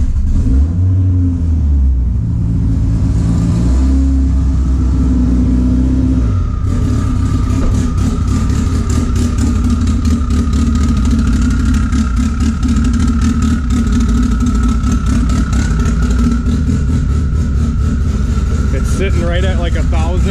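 Big cam Honda engine idling roughly at around 1,100 to 1,200 RPM, a steady loud low rumble with an uneven, choppy pulse, continuous throughout with someone talking over it.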